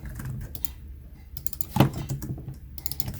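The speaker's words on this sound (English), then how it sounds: "Let's type something in." Quick, light typing on a computer keyboard nearby, an irregular patter of key clicks with a few brief pauses and one heavier keystroke partway through.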